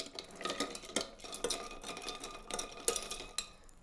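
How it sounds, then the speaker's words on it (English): A cold brew Old Fashioned made with Mr Black coffee liqueur is stirred in a mixing glass, the spoon tinkling against the glass and ice in a steady run of bright clinks, close and clear with no talking. "Stir, stir, stir."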